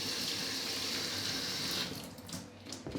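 Running tap water pours steadily over bay leaves in a kitchen sink while an okra stew is being made, then shuts off, leaving a few drips and light handling noises.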